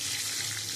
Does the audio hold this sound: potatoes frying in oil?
yes